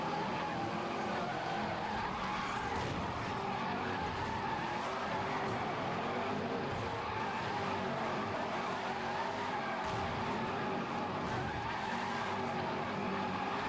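Car drifting in a racing video game, tires skidding and squealing continuously over a steady engine roar, loud and sustained without pause.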